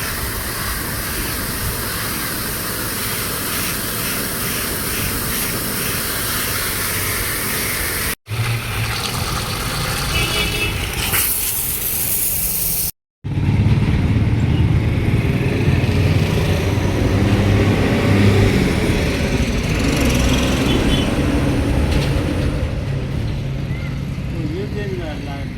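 Water spray blasts across a tractor radiator at a service centre, a steady loud hiss and rush lasting throughout, broken by two brief cuts, with a low engine-like rumble beneath.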